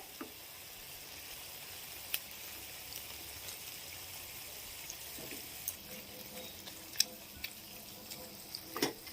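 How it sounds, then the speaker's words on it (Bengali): Apple chutney simmers in a pan as it thickens, giving a faint, steady low bubbling with scattered small pops and spatters, close but quiet and with no talk. "এটা এখন ভালো মতন ফুটুক, ফুটে ফুটে গাঢ় হয়ে যাবে।"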